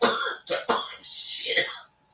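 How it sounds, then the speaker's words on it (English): A person coughs after smoking weed: two sharp, close bursts, then a long raspy, breathy exhale that trails off into quiet. "That's a weed cough that I just did."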